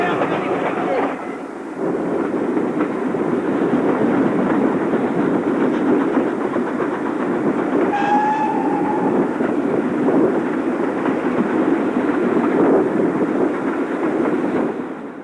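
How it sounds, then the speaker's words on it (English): A special train climbs a 1 in 50 gradient toward Devonshire Tunnel on the Somerset and Dorset line, with a loud, steady rumble and clatter throughout and a brief whistle-like tone midway. "Joining the special train, we climb the 1 in 50 up to Devonshire Tunnel."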